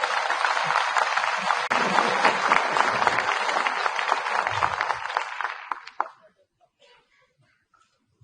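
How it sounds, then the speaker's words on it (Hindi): Loud, sustained audience applause at a Hindi comedy poetry show with poet Surender Sharma on stage, a dense crowd clapping for about six seconds before cutting off abruptly into near silence. "कुछ ही तालियों में"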